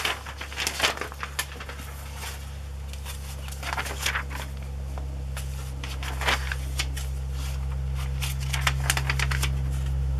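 Glossy magazine pages are flipped and snipped with scissors, with crisp papery rustles and short cuts recurring irregularly, fairly close, over a steady low hum and no talk.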